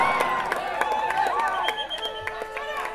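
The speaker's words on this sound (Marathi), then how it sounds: "जल्लोष तर होणारच, टाळ्या तर वाजणारच." Crowd at an outdoor kabaddi final cheering and clapping steadily, a dense roar with sharp claps throughout, while a commentator's voice rises over it.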